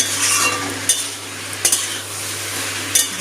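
Ground spices and spice paste fry with vegetables for a vegetarian khichuri, giving a continuous close sizzle, with three distinct scrapes of a spoon stirring the pan.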